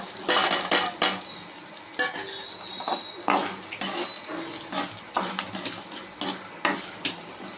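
A spice masala of cumin, curry leaves and coconut is roasted in a pan for a bitter gourd kuzhambu. A metal spoon clinks and scrapes in irregular bursts over a faint sizzle, close by.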